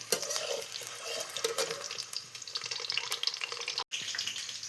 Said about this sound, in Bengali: দেখো ডিম ভাজা হচ্ছে